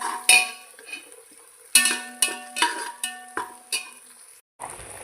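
A spoon or spatula clanks and scrapes against a pan in a series of sharp metallic knocks, some ringing briefly, over a quiet background while onions are fried and stirred.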